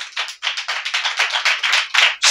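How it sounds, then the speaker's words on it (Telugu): A church congregation claps hands loudly and rapidly, a dense run of sharp, close claps in a fast steady rhythm with no talk. "చప్పట్లు కొడదాం గట్టిగా"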